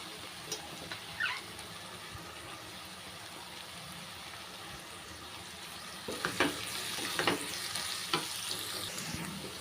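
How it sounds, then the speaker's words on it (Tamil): Onion, carrot and cabbage sautéing in a pan, with a soft continuous sizzle and several scraping stirs of a spatula, a cluster of louder strokes in the latter half. "இப்போ வந்து கேரட் சேர்த்துக்கிட்டேன் அது கூடவே முட்டைக்கோஸ் சேர்த்துக்கிறேன்"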